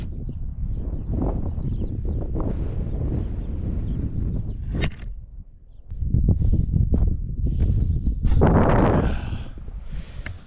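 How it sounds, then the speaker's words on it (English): Strong wind buffets and roars around a farrowing pen, rising and falling in gusts, with rustling around it. "Pretty windy today."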